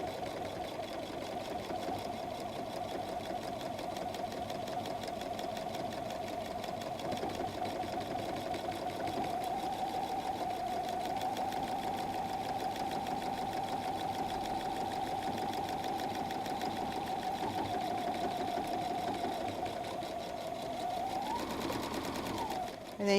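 A sewing machine hums and chatters steadily at close range while stitching over the pleated pockets of a messenger bag, running without pause for over twenty seconds before slowing at the end.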